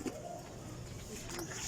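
Pigeons cooing softly near a coop built from wood, low and muffled against a steady background hiss with faint distant noise.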